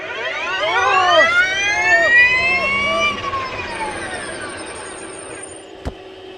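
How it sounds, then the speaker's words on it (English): A McMurtry Spéirling fan car accelerates flat out from a standstill, its electric whine climbing steeply in pitch, then braking back down to a stop; loud and close, with a sharp knock near the end. "now I put my foot flat on the throttle and try and get ready"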